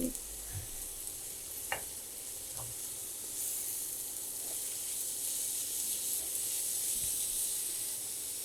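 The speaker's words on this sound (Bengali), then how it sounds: "সবজিটাকে খুব মানে ভাজা ভাজা করতে হবে" Steady hiss of beetroot and cabbage frying in a pan, with a few soft knocks from stirring; no talking.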